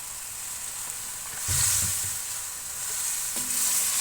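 Chicken frying in a pan with ginger garlic paste for Shinwari karahi, a steady close hiss of sizzling oil that swells briefly as the pieces are stirred, with no talking.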